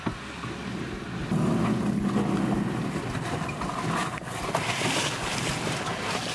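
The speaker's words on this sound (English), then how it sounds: "Oh yeah, we're throwing up some mud" A Jeep in four-low churns off-road through mud and lake water, its engine a steady broadband roar mixed with rushing splash and wind buffeting the microphone, loud and close throughout.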